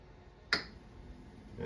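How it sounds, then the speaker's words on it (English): An RV gas oven igniter in a 2022 Forest River Avenger 28QBSLE travel trailer gives one sharp, close click, then a soft rising whoosh as the burner lights in an otherwise quiet kitchen. "And then we'll hear a click in a second here."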